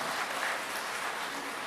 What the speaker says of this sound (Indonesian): tepuk tangan untuk para kantah kita ini